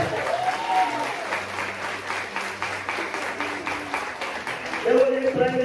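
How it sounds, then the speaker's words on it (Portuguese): An audience at a church testimony gathering claps in sustained, even applause throughout, with a voice speaking over the clapping. "Aplauda"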